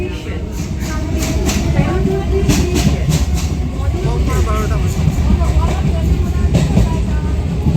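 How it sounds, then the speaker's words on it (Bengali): A Ranaghat local train pulls out of the station with a loud, continuous rumble and rhythmic wheel clatter, close by, while people talk nearby. "বাহ বাহ রানাঘাট লোকাল বেরিয়ে গেল"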